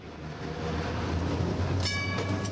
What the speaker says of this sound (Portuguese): Vamos de bonde, a bordo desta relíquia em atividade restrita à área do Museu da Carris.